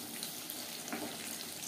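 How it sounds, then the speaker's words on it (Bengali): Paneer chops frying in hot oil over a medium flame, giving a faint, steady sizzle throughout with no voices. "চপ ভাজবো মিডিয়াম ফ্লেমে।"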